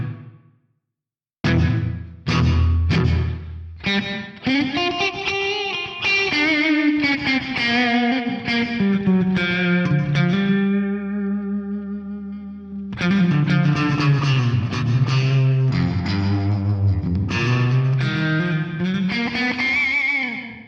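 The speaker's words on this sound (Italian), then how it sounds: "Sentite che impostandolo a valori alti abbiamo questa sorta di slap back sul riverbero." Electric guitar played through a Sonulab StompStation PRO multi-effects unit with reverb set to a high pre-delay, giving a slapback echo before the reverb tail; sustained distorted chords ring out loud and alone.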